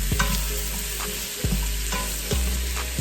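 Carrots hit a hot Instant Pot insert and deglaze the browned bottom, giving a steady close sizzle with regular spoon scrapes and clicks of stirring.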